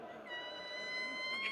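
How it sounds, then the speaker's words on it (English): A little kitten mewing softly in a drawn-out, high, tonal cry that rises slightly near the end, faint and close, with no other sounds over it. "The little kitten."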